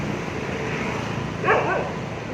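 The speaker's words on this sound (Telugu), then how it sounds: "స్ట్రీట్ డాగ్స్ తోటి చాలా జాగ్రత్తగా ఉండండి" A street dog gives one brief, faint yelping bark from a distance over the steady hum of city street traffic near a metro pillar. It is heard once, partway through.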